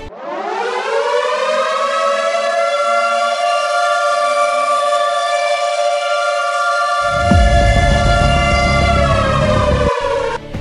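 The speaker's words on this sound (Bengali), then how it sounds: "আকাশ কাঁপিয়ে বেজে উঠতে পারে ওয়ার সাইরেন" A civil-defence war air-raid siren wails as one loud, sustained rising tone that holds steady for about ten seconds, joined near the end by a low rumbling noise before it cuts off.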